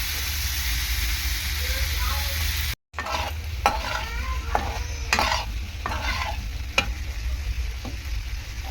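Vegetables frying in a pan with salt, stirred with repeated scraping strokes over a continuous sizzle; a short dropout breaks the sound early, then regular spatula scrapes and clacks follow up close.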